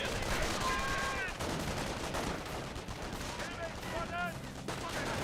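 Distant cannon and small-arms fire from a Panzer IV tank battle in the World War II strategy game Company of Heroes, scattered bursts mixed with game sound effects at moderate level.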